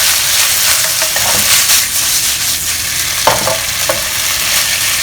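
Pork strips stir-fried in a hot pan give a loud, steady sizzle throughout, with a few sharper scrapes and clanks from stirring near the end. No one talks.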